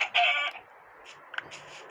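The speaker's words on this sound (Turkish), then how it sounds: "Anca burada tavuklar var ya." Chickens cluck in a Minecraft beach and cactus area: a short burst of clucking up front, then fainter scattered clucks, with no talk.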